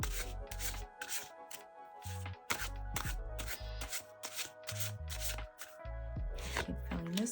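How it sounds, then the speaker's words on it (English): Tarot cards are shuffled and pulled from a deck in short bursts of soft riffling, rubbing and slapping, close up, with gentle music playing underneath. "I'm going to pull a couple of tarot cards."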